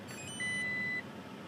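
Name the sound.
Toyota Tacoma warning beeping when started with door open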